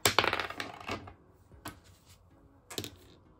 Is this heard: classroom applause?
no